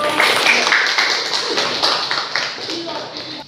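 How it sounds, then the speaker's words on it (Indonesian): Students clap in an Indonesian school classroom during a lesson, a loud close burst of quick, scattered claps that thins out and fades by the end, with faint voices underneath. "Beri tepuk tangan buat"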